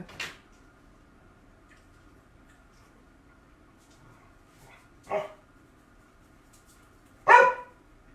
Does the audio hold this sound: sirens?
no